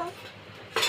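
Small toy kitchen pots and utensils clink together briefly as a child plays with a toy kitchen set, a quick metallic rattle that swells near the end of the moment.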